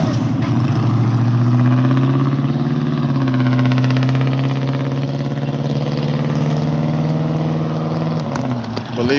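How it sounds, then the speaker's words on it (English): A Ford Mustang engine running rough and down a cylinder, its steady low droning idle loud and close for about eight seconds before fading slightly at the end, with no talk over it. "that Mustang y'all just seen, he needs either an O2 sensor, and it sounds like he's down a cylinder"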